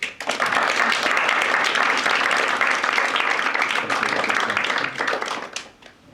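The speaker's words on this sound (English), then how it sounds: "can you give Keiji a round of applause?" An audience at an artist talk at the RCA applauds steadily and loudly for about six seconds, dense clapping filling the room before it tapers off at the end.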